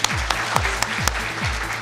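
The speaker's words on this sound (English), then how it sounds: "Round of applause for her." Audience applause at a large hotel event, a short burst of clapping with a few sharper individual claps standing out and a low tonal background underneath.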